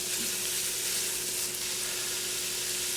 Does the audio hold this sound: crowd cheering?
no